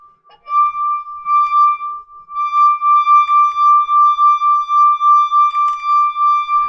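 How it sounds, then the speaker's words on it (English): A wine glass holding water, sung by rubbing a wet finger around its rim, gives a clear, pure ringing tone that swells and pulses with each circuit of the finger, loud and close, without any talking. "by holding the base of the glass and rubbing it around, after a little while you should get a sound"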